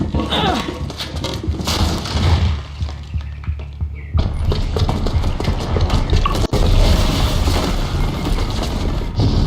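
A bomb booby trap going off in Horizon Zero Dawn, a loud rumbling blast with heavy low boom, a sudden quieter gap, then renewed crashing debris and thuds continuing throughout.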